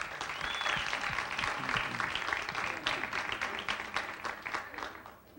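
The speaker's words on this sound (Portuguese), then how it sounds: "uma salva de palmas para ela hoje" A chapel audience applauds during a Catholic talk, with dense, sustained clapping that rises quickly and holds for several seconds before thinning out near the end.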